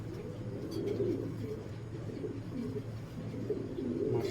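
Racing pigeons coo repeatedly nearby, soft low throaty bursts recurring in an uneven rhythm over a steady background hum.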